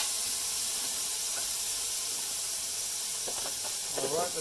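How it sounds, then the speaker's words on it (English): Juice poured onto vegetables on a hot Weber grill, sending up a loud, continuous sizzling hiss with crackling spatter, close up, while a person speaks briefly over it near the end. "I'm going to pour all this lovely juice on top of that."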